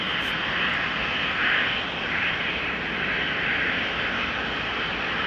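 Jet airliner departing Amsterdam Schiphol Airport, a steady loud engine roar with broadband rushing noise that swells slightly and holds throughout, close by with no voices.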